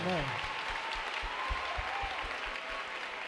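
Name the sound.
audience cheering and applauding in gymnasium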